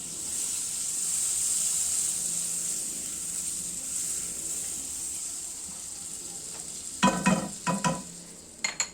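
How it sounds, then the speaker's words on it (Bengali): Butter brushed across a heated frying pan before cauliflower pancake batter goes in, giving a steady close hiss and sizzle, with a few sharp clinks and scrapes of the brush against the pan near the end. "বাটারটা ব্রাশ দিয়ে প্যানের মধ্যে আমি ব্রাশ করে নিচ্ছি।"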